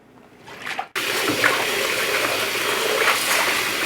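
Water runs steadily and loudly as collard greens are rinsed, the gushing flow starting abruptly after a brief quieter moment and continuing without pause.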